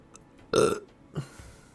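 A loud, close burp bursts out alone in a quiet room, followed by a fainter second belch a moment later.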